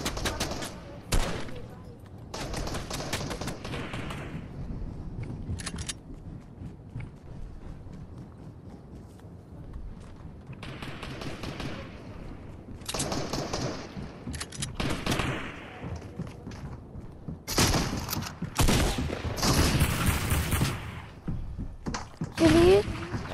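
Bursts of Fortnite gunfire crackle in clusters throughout, some rapid and loud, mixed with game effects and a voice speaking in between.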